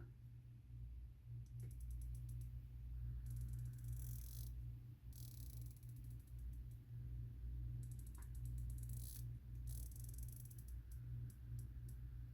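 Turret adjustments on a Steiner Military 1-5x24 Rapid Dot rifle scope produce bursts of fine, rapid clicks in several separate runs, heard close up over a steady low hum.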